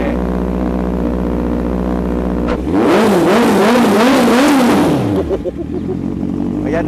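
A 2018 Honda CBR650F with a titanium exhaust idles and then revs hard several times in a row, the engine pitch rising and falling in quick waves before settling back to a close, loud idle.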